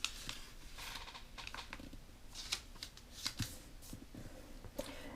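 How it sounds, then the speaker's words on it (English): Sheets of paper creased and folded by hand into an origami table, giving soft rustling and crisp creasing taps in an irregular rhythm, close and quiet, with no talking. "the bottom I'm going to fold up to meet the center line"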